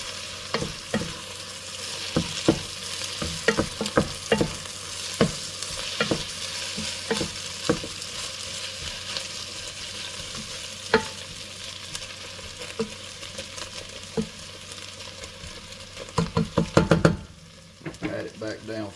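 Eggs sizzle and fry in a pan while a utensil repeatedly scrapes and stirs with scattered knocks, close and continuous, ending in a louder flurry of stirring.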